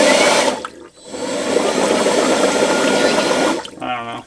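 Water rushes and bubbles loudly and continuously for several seconds outdoors at a national park, with a brief dip partway through, then a voice speaks near the end.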